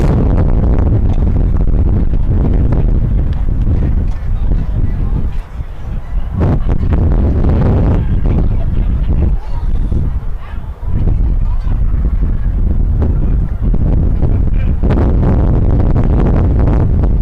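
A big gust of wind rushes across the microphone at an outdoor high school baseball game, a loud, continuous low roar and buffeting that fills the whole stretch.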